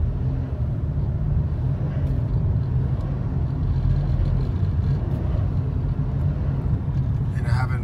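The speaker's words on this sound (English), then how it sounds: "have a 2006 Impala and it's surging. Look, I'm pressing on the gas and this is what it does" A 2006 Chevrolet Impala engine surging as the gas is pressed, a loud low rumbling drone that swells and sags over several seconds, with speech heard over it.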